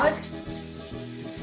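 Minced garlic hitting a hot pan, a close, steady sizzle that flares briefly at the start and then settles into a constant hiss.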